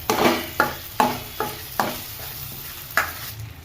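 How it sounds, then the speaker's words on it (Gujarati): A spatula scrapes and stirs thick onion, ginger and chilli gravy for chickpea curry in a pan, sounding as six sharp, evenly spaced scrapes over a low, steady sizzle. "ગ્રેવી પકાવતા હોય એટલે આવી રીતે તવીથાથી ચમચથી સતત હલાવતું રહેવાનું"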